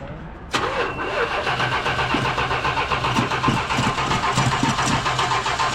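A 1978 Dodge Ram crew cab truck engine cranks and catches with a sharp onset, then settles into a steady, loud, rough idle that runs on with no talk over it.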